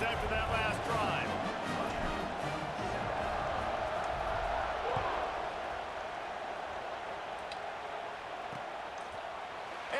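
Stadium crowd noise from an NCAA college football video game, Miami at Florida State, a steady roar of cheering under commentary that eases slightly toward the end.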